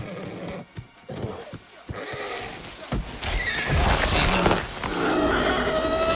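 A horse whinnies loudly, its call rising over clip-clopping hooves and some background voices.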